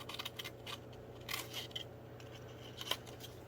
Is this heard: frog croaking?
no